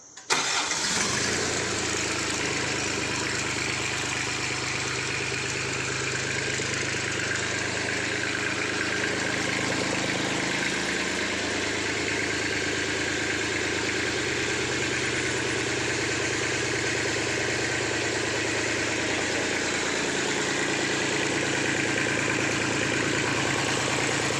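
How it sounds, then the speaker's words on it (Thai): An Iseki three-cylinder 28 hp engine cranks and catches, then settles into a steady, loud, close idle that runs unbroken for over twenty seconds with slight shifts in pitch. "ลองมาชม ว่าเครื่องมัน ยังฟิตอยู่ไหมนะครับ เอาสตาร์ทเปล่า"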